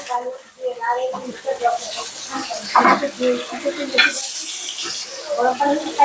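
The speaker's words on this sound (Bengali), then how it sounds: "একটু ভেজে নিচ্ছি আর চালটা আগের থেকে ধুয়ে রাখছি এখন দিয়ে দিচ্ছি চালগুলা" Pre-washed rice is tipped into a pan of frying spices, setting off bursts of loud, hissing sizzle with a steady fry beneath, while someone talks throughout.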